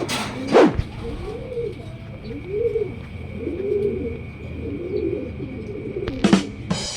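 Racing pigeons arriving at the loft during a training race, soft repeated cooing from birds close by, bracketed by sharp flapping or rustling bursts at the start and end, with a faint steady background tone.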